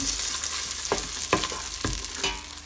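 Melted butter stirred in a pot while making caramel popcorn, a low steady sizzle with a handful of spaced scrapes of a spoon against the pot, close by and without talking.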